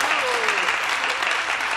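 Studio audience at a Spanish-language talk show bursts into brief, dense applause, steady and fairly loud, with a voice or whistle sliding through the noise.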